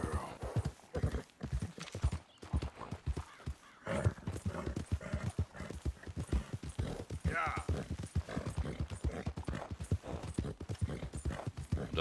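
Rapid, rhythmic hoofbeats of a galloping horse in Red Dead Redemption 2, loud and continuous, with a voice talking over them.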